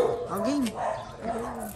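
A dog barks and yips nearby in a short, uneven burst of two or three calls, partly overlapping with people talking outdoors.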